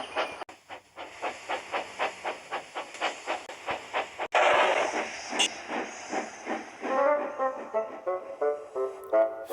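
A steam locomotive chuffs in a slow regular rhythm, then hisses loudly and rolls on with clanking, squealing wagons as it backs its trucks toward a harbour.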